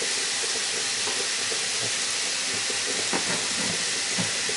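Onion and minced meat fry in a pan with a steady, moderately quiet sizzle and hiss, broken by a few soft scraping stirs.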